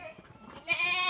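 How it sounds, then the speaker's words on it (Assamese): A pregnant female Sirohi F1 goat, offered for sale in Nalbari, lets out one loud, sustained, wavering bleat close by, after a short stretch of quieter background noise. "চাওক এইটো ছাগলী"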